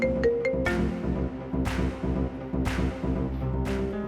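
A phone ringing again and again in a Hindi TV sitcom household, tonal electronic ring bursts repeating at steady intervals over a steady background hum, with no one speaking.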